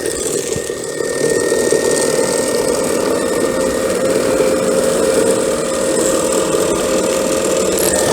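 A Mammotion Yuka robotic lawn mower drives across a lawn while collecting cut grass, a loud, steady motor whir with a rattling mechanical hum, close and continuous with no voices.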